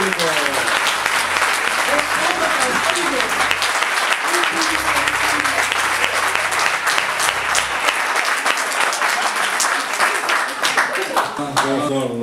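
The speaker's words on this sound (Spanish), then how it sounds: "Y se va con un fuerte aplauso del público." Loud, sustained audience applause fills the room at a book launch for the novel El Efecto Midas, dense clapping running steadily throughout with a few voices faintly mixed in underneath.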